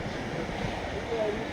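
Sea waves roaring onto the shore at Solai Nagar, Muthialpet, Pondicherry, a continuous broad wash with a voice speaking over it.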